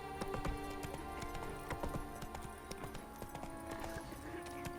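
Roach, a horse in The Witcher 3 game, gallops with a rapid, rhythmic clip-clop of hooves, close and clear over a steady musical background.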